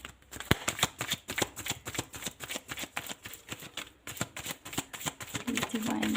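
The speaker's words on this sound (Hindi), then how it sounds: "तो मैं कुछ कार्ड और लेती हूँ जिससे क्लियर हो जाए" Tarot cards are shuffled close by in quick, rhythmic bursts of crisp riffling and slapping, with a soft voice faintly heard toward the end.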